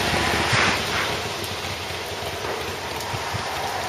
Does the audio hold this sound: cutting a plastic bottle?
no